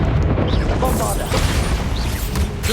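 A Bombarda blasting-spell explosion from the Hogwarts Legacy video game bursts loudly amid dense combat noise, crackling debris and scattered effects, with a voice shouting over the action.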